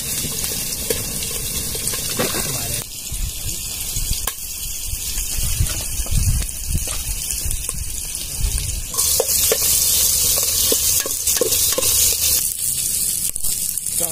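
Shrimp, crab and mussels fry loudly in a pan for a rice dish, a dense continuous sizzle and hiss with shifting intensity and some watery bubbling, close up and without speech.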